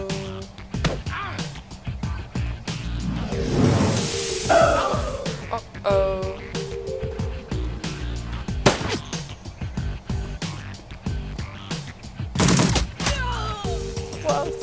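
Gunfire in the Shadowrun video game comes as repeated shots and bursts over dense, busy game sound, with a voice talking now and then.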